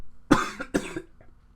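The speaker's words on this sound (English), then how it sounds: "It was me coughing." Two quick, close coughs in succession, followed by a faint breathy trailing sound, with no talking.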